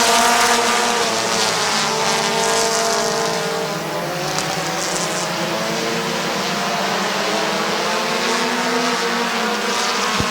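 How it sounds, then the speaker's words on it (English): Race cars roaring around Midvale Speedway on the final lap, a loud continuous engine drone with passing cars swelling and fading, heard without talk. "It's going to be white flag, 1 lap to go for Bart Busby."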